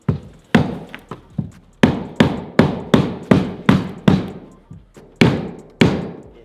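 A hammer drives a wooden stringer into the frame of a 35-year-old project boat, about a dozen loud, close, sharp blows in an uneven rhythm, each with a short ringing decay and no talk.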